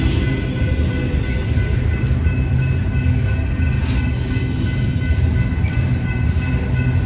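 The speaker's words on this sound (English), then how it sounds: "This train goes from Norfolk, Virginia to Louisville, Kentucky." Norfolk Southern freight train NS 279 rolls steadily past close by, its continuous loud rumble and wheel noise holding level the whole time with no voices.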